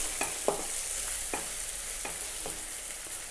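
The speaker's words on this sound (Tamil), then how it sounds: "அடுத்து தக்காளி சேர்க்குறாங்க. இதை நல்லா கொஞ்சம் வதங்கணும்" Chopped tomatoes sautéing in oil for a prawn thokku, a soft continuous sizzle with several separate stirring scrapes at an uneven pace, near and fairly quiet, no talk.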